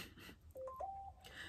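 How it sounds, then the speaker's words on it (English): A mobile phone goes off indoors with a few short electronic chirping tones, faint and brief against quiet room background. "Don't mind my phone going off."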